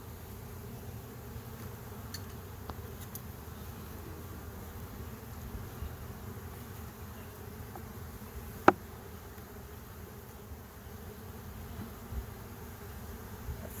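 A steady, low drone of many honeybees humming together at an open nuc hive, with a single sharp click partway through and faint rustling.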